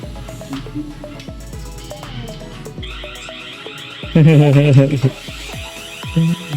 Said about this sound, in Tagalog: Merong alarm to if detect people based on your schedule.